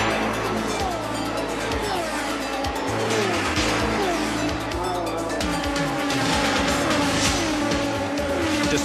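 Indy race cars scream past at over 210 mph while lapping slower traffic on a circuit, engines roaring loudly and continuously with repeated pass-by pitch sweeps and some tire noise throughout.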